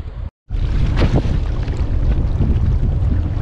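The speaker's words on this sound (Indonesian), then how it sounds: "korang tengok lah keadaan angin memang kuat dah" A strong wind blows at sea during a solo kayak fishing trip, a continuous loud roar of gusts buffeting the microphone after a brief dropout at the start.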